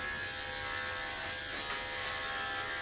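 An electric hair clipper fitted with a four guard shears through dog hair, giving a steady, close, continuous buzz that holds level throughout with no talking.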